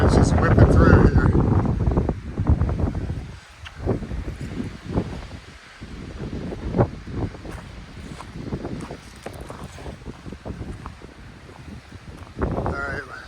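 Strong wind whips through a mountain campground at Mount Mitchell State Park, roaring and buffeting the microphone in loud, gusty surges for the whole stretch, with rustling underneath.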